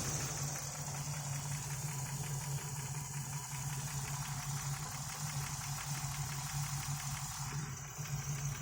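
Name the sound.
engine idling rough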